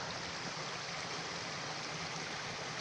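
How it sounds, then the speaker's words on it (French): Small waterfall cascading down a stream on rural land, a steady continuous rush of falling water heard close and alone throughout. "Là, je vous montre juste une deuxième petite cascade."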